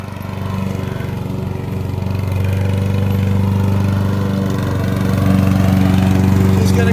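A lawnmower engine running steadily while mowing a lawn, a loud close droning hum with a rough buzzing pulse that swells slightly as the mower moves, with no voices.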